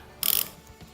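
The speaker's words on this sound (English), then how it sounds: "now let's clamp it down to the workbench" A workbench clamp being tightened in a woodworking shop gives one quick burst of ratcheting clicks, close and distinct, followed by a faint knock or two.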